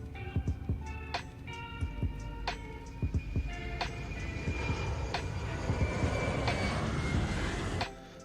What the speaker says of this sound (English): And we'll go ahead and start the APU.